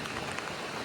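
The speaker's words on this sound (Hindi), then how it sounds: "बड़ी तेज़ बारिश हो रही है" Heavy rain pours down steadily at a home, a dense, even hiss of drops on surfaces with no talk, lasting under a second.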